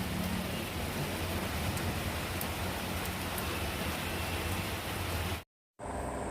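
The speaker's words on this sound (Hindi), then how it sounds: "अभी तो एकदम बारिश हो रही, छत गर्म है तो गर्माहट सी आ रही है।" Steady rain pours onto a house roof in a dense, even hiss that carries on for several seconds. The sound cuts out briefly near the end and then comes back, and no one speaks.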